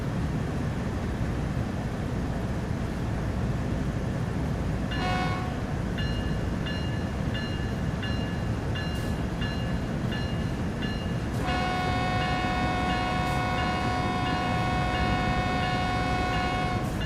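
A BNSF freight train rolling downhill on Cajon Pass in Train Sim World 6, a steady low rumble of wheels and rails with a horn sounding in short blasts and then a long sustained blow near the end.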